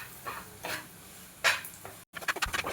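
Semolina roasts in ghee in a pan while a spoon stirs it, making short scraping strokes and light metallic clinks over a faint sizzle, close and without talking.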